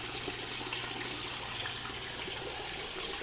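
Water from a small waterfall pours steadily into an aquaponic koi pond, a continuous close hiss and splash at constant level.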